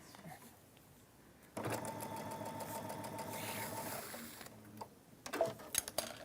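A sewing machine stitches part of a handbag with leather handles, running in a quiet, rapid, even patter for about three seconds before stopping, followed by faint handling noises.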